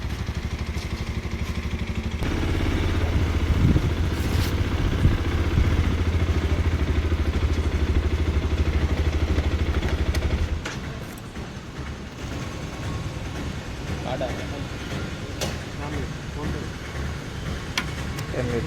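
A motorcycle rides through the Nallamalla forest, its engine droning loud and steady for about ten seconds before dropping to a quieter, rougher rumble with road clatter.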